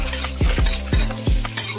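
Olives go into hot mustard oil with five-spice and dried red chillies for a sweet olive pickle. Close, loud scraping stir strokes come in a loose rhythm over a continuous sizzle, with no talking.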